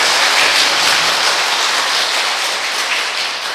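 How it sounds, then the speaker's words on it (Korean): Congregation at an overnight Catholic Charismatic Renewal prayer vigil applauding together, a dense, steady wash of clapping that fills the room and stays loud throughout before easing slightly at the end. "박수 한번 쳐주실까요?"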